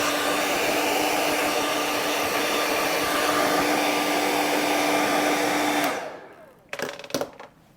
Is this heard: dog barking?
no